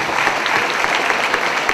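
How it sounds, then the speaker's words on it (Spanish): Brief burst of clapping from a small crowd, steady and moderately loud throughout. "No merece un aplauso."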